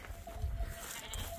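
Sheep on a Spanish farm bleat during a day of deworming, marking and weaning, with overlapping nearby calls over a low rumble of outdoor noise.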